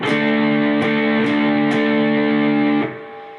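Distorted electric guitar strums a chord in an up, down, up, down pattern, four or five distinct pick attacks over a ringing sustain that cuts off and fades near the end.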